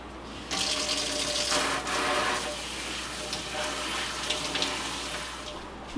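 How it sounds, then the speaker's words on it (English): Sunflower, wheat, mung bean and pea sprouts rinsed under a running kitchen tap, a steady close rush of water splashing onto the trays with small shifts in flow. "So for now, I'm just going to rinse them."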